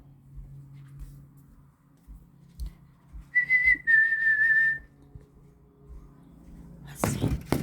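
A bird whistles near a boat on the water, giving two clear, steady high notes in quick succession against a quiet background with faint low noise.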